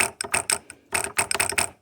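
Lotus Elite headlight vacuum solenoid valve, cleaned and reassembled, clicking repeatedly as 12 volts is applied, a series of sharp close mechanical clicks in quick bursts with a short pause in between, no talking.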